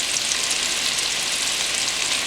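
Onion and celery sizzle steadily in a pot for soup, a dense, even frying hiss at close range with no break and no voices.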